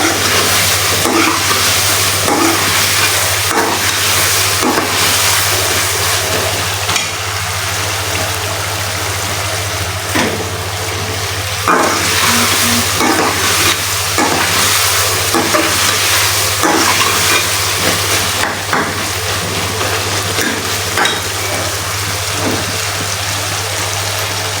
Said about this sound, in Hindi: अब हम इसे 5 मिनट के लिए और भूनेंगे